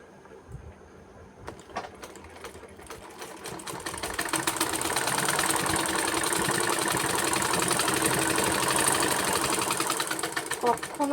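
A sewing machine stitching a tassel onto a blouse starts after a few light handling sounds, then runs in a steady, fast, close mechanical whir and rattle for several seconds, with a voice speaking softly underneath.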